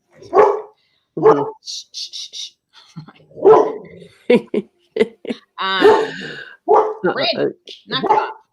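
A dog barks and yips in several short bursts at moderate distance, with whining in between, while people talk nearby in a home setting during an interview.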